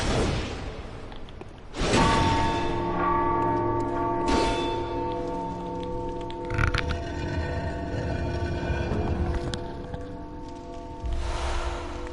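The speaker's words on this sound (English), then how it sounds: "Oh, that's right, the bell. I don't think ringing this thing actually does anything." A big bell in the dark fantasy game Bloodborne rings out in deep resonant strikes, each tolling and sustaining over an ambient rushing background, with several clangs across the stretch.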